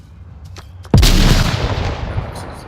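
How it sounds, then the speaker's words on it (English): Grenade explosion in a VR shooter game match: a single sudden loud blast with a long rumbling decay that fills the rest of the moment, preceded by a few faint ticks. "A nice nade by Oxo here"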